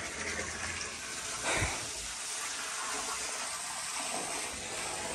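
Water pours steadily into a freshly dug pit in the ground, a soft continuous rushing gush heard at a distance, with one brief dull thump partway through and no voices.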